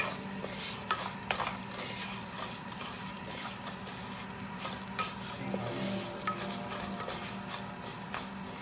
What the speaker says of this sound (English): Now adding the orzo, 1 cup orzo pasta, and you need to stir them or else it will become brown.